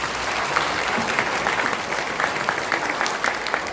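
Sustained applause from a congregation at a Korean church ceremony honoring retiring elders, dense and even clapping throughout, loud and close with no voices over it.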